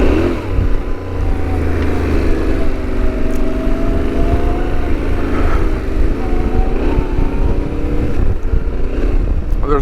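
A Yamaha Tenere 700 motorcycle being ridden, its engine droning steadily and loud with a shifting pitch as the rider accelerates and eases off, mixed with constant wind rush and no talk.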